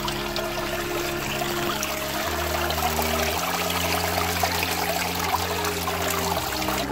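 Water flows and trickles steadily, a constant rushing wash with no voices.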